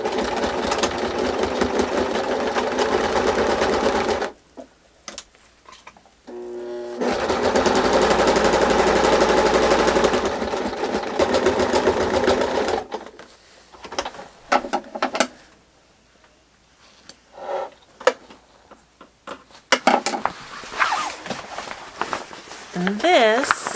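Sewing machine stitching a half-inch seam on a firewood carrier repair, a steady fast whirring run of several seconds, a pause, then another long stretch of stitching, followed by quieter handling noises and a voice talking.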